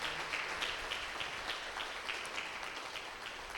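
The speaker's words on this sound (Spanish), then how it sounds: "Denle un fuerte aplauso al Señor por la vida de Eduardo," A church congregation gives a round of applause to the Lord, a dense, steady patter of many hands clapping at moderate volume, lasting the full few seconds with no talking over it.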